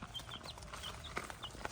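A chicken taking a dust bath in the soil gives faint, soft clucks and short high chirps at a distance, scattered irregularly over quiet outdoor background noise.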